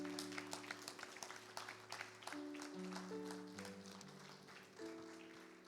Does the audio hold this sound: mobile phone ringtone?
no